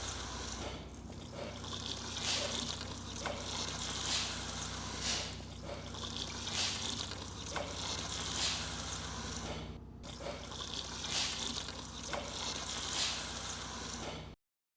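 ISO purging material flows steadily from an opened valve into a bucket, giving a continuous liquid splashing and gushing with slight surges, alone and fairly close.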